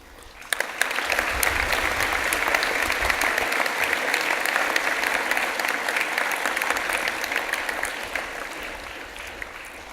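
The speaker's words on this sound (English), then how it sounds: "please keep your applause so that we can show our appreciation to our official guests, Archbishop Costello, Bishop Sproxton" Audience applause at an archbishop's launch event, a full room clapping steadily and loudly for several seconds after a sharp start, sustained without a break, with a faint murmur of voices under it.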